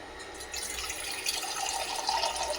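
Water gushes steadily from a tap, a continuous bright splashing rush that swells slightly toward the end, close by with no talking.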